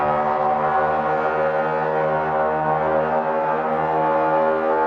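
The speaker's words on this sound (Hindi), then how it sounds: "सबसे पहले वॉर शुरू होने से पहले जो हॉर्न बजाई जाती है उसकी आवाज कुछ ऐसी होती है" A war horn blares before battle begins, one sustained deep brassy drone with rich layered overtones, steady and loud throughout without a break.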